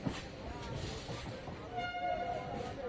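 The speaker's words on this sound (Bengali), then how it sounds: "তো চলেছি শিয়ালদা এই ট্রেনেই" A crowded local train running toward Sealdah in the evening gives a steady, close rolling rumble, with a brief tonal whine near the end and people talking over the noise.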